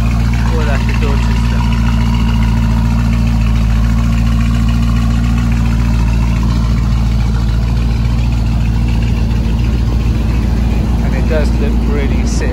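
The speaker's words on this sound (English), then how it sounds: "if you want it sounding absolutely crazy, everyone, you have to have the actual Mansory exhaust on the car, and this is how that sounds like." Lamborghini Urus fitted with a Mansory exhaust, engine running loud and steady with a deep low rumble throughout, people talking over it.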